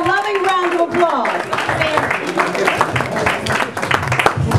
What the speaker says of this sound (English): Please give her a loving round of applause.